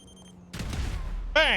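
Explosions and gunfire-like blasts in the video game Grand Theft Auto V: a broad burst of booming noise lasting about a second, followed by a sharp, louder swelling tonal effect at the end.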